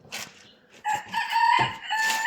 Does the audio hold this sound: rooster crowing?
yes